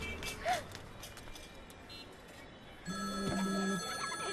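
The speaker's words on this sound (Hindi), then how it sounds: "फिर से फोन करा है।" A telephone rings in a Hindi film scene, with a faint electronic trill early on and then a clear, steady, sustained ring that is close and moderately loud.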